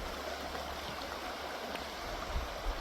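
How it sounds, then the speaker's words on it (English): Running water flowing near railroad tracks, a steady close rushing and gurgling wash with faint low rumbles underneath and no speech. "I've never seen water come that way before"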